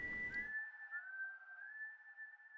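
Soft, steady whistling plays a sustained, slowly wavering tone in a video game, faint and alone in the quiet, after a brief muffled rumble at the opening.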